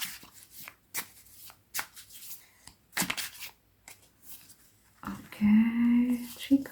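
Tarot cards are shuffled in short riffling bursts close by, followed by a few soft card slides as cards are pulled from the deck, with a voice humming briefly near the end.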